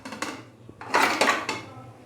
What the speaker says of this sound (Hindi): अभी मैं इसको प्रेशर कुकर के अंदर डाल दूंगा